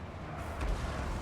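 Cannon fire in the strategy game Total War: Warhammer 2 during a dwarf army battle, a dull booming rumble with a mid-clip impact swelling over a steady low battle din.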